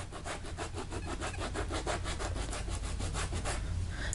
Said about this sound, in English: you just get in there real good and scrub the suede where the mark is at